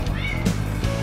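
A shelter cat gives a short, close meow that rises and falls, heard over a steady background hum and murmur.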